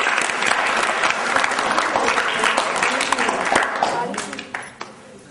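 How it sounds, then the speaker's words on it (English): Strong applause from an audience at a quiz on global warming rewards a team's correct answer, dense clapping that holds steady before tapering off, with voices mixed underneath. "Please give them a big round of applause."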